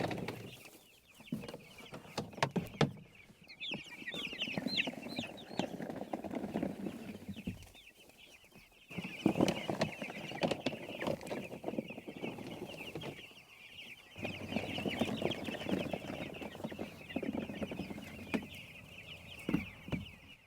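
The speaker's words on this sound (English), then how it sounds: "All of our chickens are out on pasture." Cornish cross chickens cluck and chatter on open pasture, a dense flock murmuring continuously in bursts with short quieter gaps, close and moderately loud.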